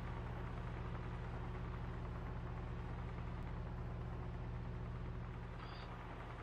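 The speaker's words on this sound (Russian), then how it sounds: "Сейчас этот трактор, экскаватор должен будет поехать." A heavy excavator engine in the industrial building game Captain of Industry rumbles steadily at a low, constant drone, a continuous mechanical hum with no break throughout.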